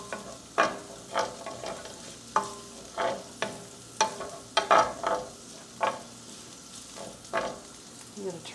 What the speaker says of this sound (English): let me saute this just a little bit with the seasonings because you want to meld those flavors